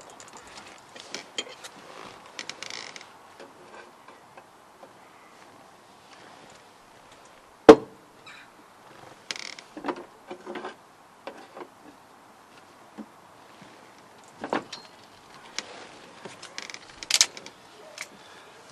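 Quiet metallic taps and scrapes come from prying a steering column bush out of a Classic Mini, with one sharp loud knock partway through amid scattered faint clicks and pauses.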